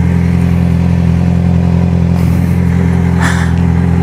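A Yamaha XJ6 motorcycle runs steadily with a loud, continuous engine drone at a constant pitch, no gear changes heard, and a brief clattery rush of wind or passing noise near the end.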